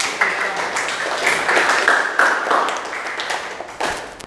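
Classroom applause from students clapping together, a steady dense patter of many hands held at moderate loudness for several seconds with a few sharper claps standing out.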